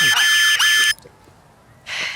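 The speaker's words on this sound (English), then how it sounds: "It's a rape alarm. It's insanely loud." A personal rape alarm going off, a piercing, very loud warbling electronic shriek in two bursts, then a brief pause before it resumes.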